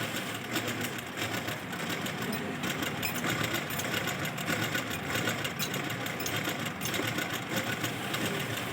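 A Daichi sewing machine with a bobbin fault runs continuously, a steady fast mechanical rattle and whir held at an even level throughout, with no voices.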